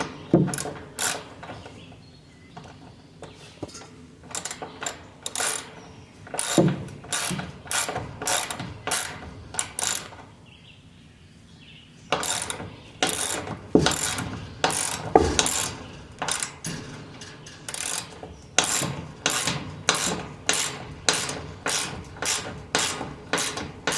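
A ratchet wrench tightens a bolt on a wooden chicken coop gate, with rapid close clicking bursts of strokes repeated in rhythmic runs and a brief pause midway, loud and without talk.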